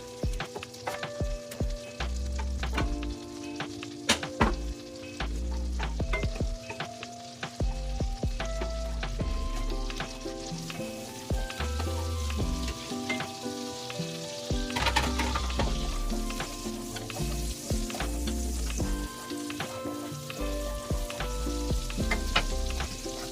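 Butter sizzles in a pan for a shrimp sauce, a steady close frying hiss with intermittent clinks and scrapes of utensils, over a background of low music.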